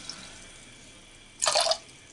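Water poured from a measuring cup into a cooking pot of water for cornmeal dough, a short close splash of about a third of a second, alone after quiet kitchen background.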